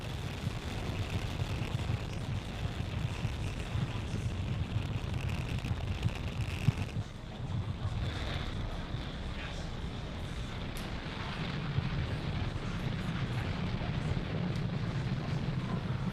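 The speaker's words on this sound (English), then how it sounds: "Falcon 9 has successfully lifted off from Space Launch Complex 40, carrying our 53 Starlink satellites" A Falcon 9 rocket lifts off from Space Launch Complex 40 carrying 53 Starlink satellites, a heavy, sustained distant roar and rumble with wind-like buffeting that shifts partway through and continues steadily, with no talk.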